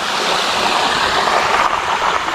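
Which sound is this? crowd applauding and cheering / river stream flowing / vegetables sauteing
river stream flowing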